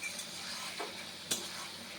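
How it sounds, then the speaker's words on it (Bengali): Pieces of pointed gourd frying in hot oil with spices, a soft continuous sizzle with a couple of scraping stirs of a spoon in the pan, close and fairly quiet. "পটলটা ভালো মতন কষুক"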